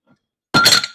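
A sudden sharp clunk and rattle, like something knocking against a camera, brief and loud after near silence.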